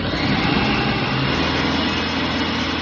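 A food processor shreds zucchini with a steady, loud motor whir and a gritty grinding texture, running continuously and close up without voices.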